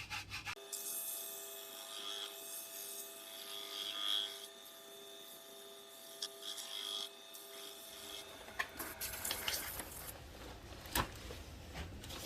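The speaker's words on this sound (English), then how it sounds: "That's sanded all the way down to 600. Power sanding." Power sander working over a turned wooden tornado bowl, the abrasive taken down to 600 grit, giving a steady close whirring rub with shifting pressure and a rougher, busier stretch near the end.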